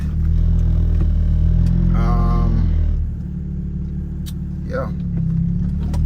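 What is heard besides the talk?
car driving in city streets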